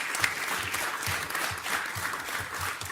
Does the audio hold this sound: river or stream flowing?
no